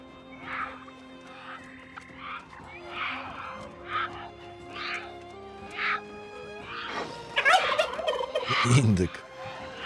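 A wild turkey gobbling in the online game New World, several rapid rattling gobble calls at moderate distance over faint ambient background, ending in a louder burst of noise.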